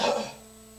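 A man clears his throat once, a short rough rasp close to the microphone that fades quickly into quiet room tone.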